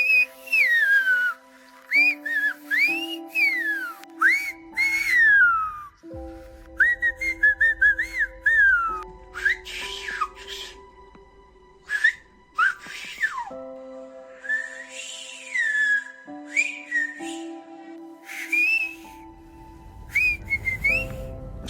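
Whistled Silbo speech from Tenerife rings out in sharp, gliding whistles, rising and falling in quick phrases separated by pauses, loud and near over a steady low drone.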